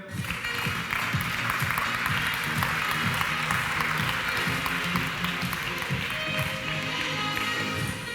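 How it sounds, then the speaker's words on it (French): An audience at a business conference applauds with dense, steady clapping that stays loud throughout, and no speech stands out over it. "qu'on peut applaudir, s'il vous plaît"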